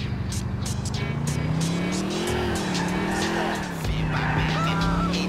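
A car in GTA IV: The Ballad of Gay Tony races along, its engine note rising and falling with tire squeals and skids, loud and close, with a little speech faintly underneath.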